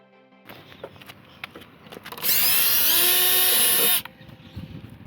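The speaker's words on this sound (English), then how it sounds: "just drill through so you're actually through to the other side." A power drill whirs loudly in one sustained burst of about two seconds, drilling through a plastic rear spoiler on a Hyundai i30 or Kia Cerato hatch, amid light handling clatter before and after.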